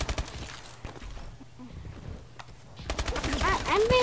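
Rapid bursts of automatic gunfire in a first-person shooter game, sharp repeated cracks in clusters at the start and again toward the end, with excited voices talking over the later shots.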